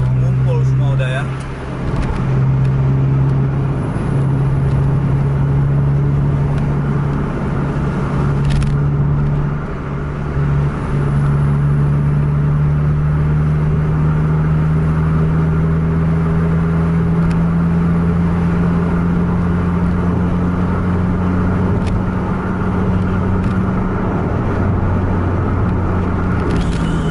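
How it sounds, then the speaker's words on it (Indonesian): Heavy night road traffic with cars and buses, a continuous loud engine rumble with one engine slowly rising in pitch as it accelerates, a steady roadway wash beneath, and a voice talking over it at times. "Kendaraan pribadi juga luar biasa untuk malam ini, padat lalu lintas."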